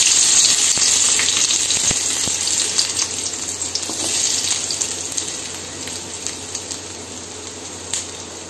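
Chopped onions frying in hot oil for capsicum egg rice, a loud, close, continuous crackling sizzle with occasional sharper pops, no voices.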